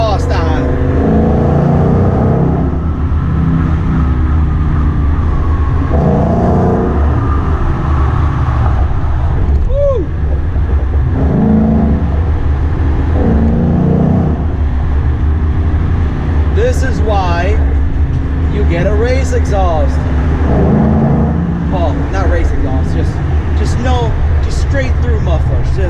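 A 2016 Ford Mustang GT with a straight-through muffler and long-tube headers drives along, its engine and exhaust droning steadily underneath frequent talk inside the car, with occasional revs.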